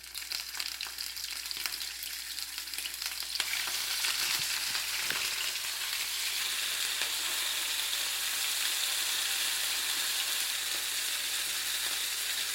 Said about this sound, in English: So it's hot right now, so you put the mussel in it.